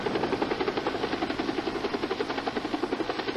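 A medical air transport helicopter's rotor thumps in a fast steady rhythm, a continuous throbbing chop at moderate distance with no voices.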